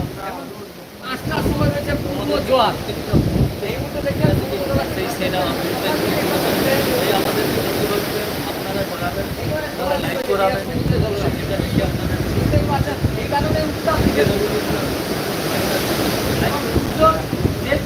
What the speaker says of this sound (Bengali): এই হচ্ছে সমুদ্র দীঘার